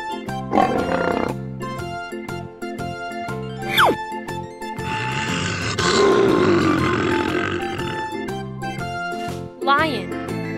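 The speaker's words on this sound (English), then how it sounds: "Lion." A lion roars in a children's animated show, one long rough roar rising in the middle of the clip over cheerful background music, with short cartoon sound effects around it.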